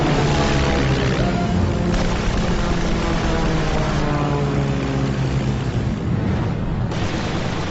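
A First World War fighter biplane dives on an attack run, its propeller engine a steady, loud, close roar that holds for several seconds with no talk over it.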